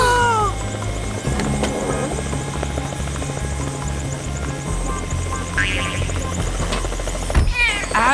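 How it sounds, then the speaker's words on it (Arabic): A helicopter flies with a loud, steady rotor thrum and engine drone throughout, heavy in the low end, with cartoon voices and a brief cat cry mixed over it. "ما تقدر تصدق إن قطوة ركبت الهليكوبتر"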